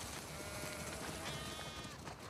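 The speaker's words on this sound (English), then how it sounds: "We definitely have way too many sheep" Sheep bleat amid a dense, noisy farm soundscape in the video game The Last of Us Part 2, the calls steady and close with no speech over them.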